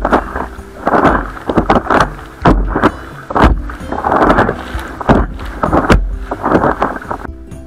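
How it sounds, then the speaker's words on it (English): Waves slap hard and repeatedly against a small boat paddling on a lake, loud close thuds in an uneven rhythm, with wind rumbling across the microphone throughout. "you can hear just how loud these waves are actually hitting the boat"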